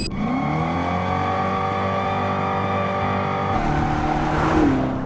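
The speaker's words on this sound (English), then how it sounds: "a patent-pending system that creates sound waves through chambers, producing up to 126 decibels of noise" A 2025 Dodge Charger EV's synthetic chambered exhaust system makes a loud, steady engine drone with layered buzzing tones, rising in pitch like revving toward the end.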